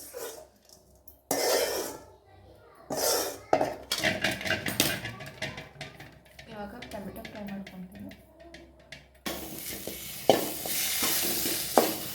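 Garlic fries for dhaba-style chicken sukka, sizzling in a pan with intermittent stirring and utensil clatter, while a person speaks over much of the cooking.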